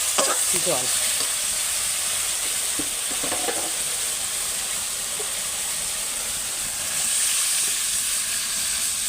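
Spice paste frying in oil for a snakehead fish curry with raw mango hisses steadily up close, with a few soft stirring scrapes near the start and a brief swell of sizzle toward the end.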